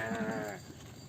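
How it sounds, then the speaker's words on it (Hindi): Goats and sheep on a village road give a clear, close bleat with a wavering, quavering tone, fading after about half a second into quieter outdoor background. "तो रास्ते में दोस्तों ये बकरी और भेड़ मिल गए थे।"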